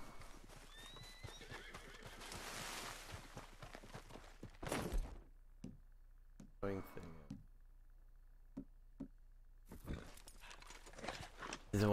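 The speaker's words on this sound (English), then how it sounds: "Come on, you horse, come on." In the Red Dead Redemption 2 video game, a horse's hooves clip-clop in scattered bursts alongside snorts and a whinny, with someone talking over the early part and quiet gaps between sounds.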